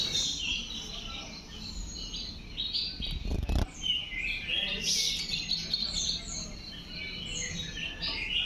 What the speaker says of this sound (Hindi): सुबह सुबह पक्षियों का चहचहाना सुन के आप सभी लोगों को अच्छा